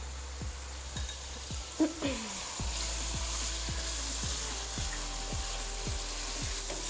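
Chicken with a ginger-garlic paste fries in a pan for a restaurant-style Chicken Manchurian, a soft continuous sizzle under a steady low hum, with regular faint ticks and a brief clatter early on.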